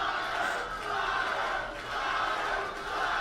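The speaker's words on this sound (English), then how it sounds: "Who's louder? Oyama fans or Sneider fans?" Live audience at a Schmoedown event in New York cheering and roaring continuously, a dense steady crowd noise with slight swells and dips.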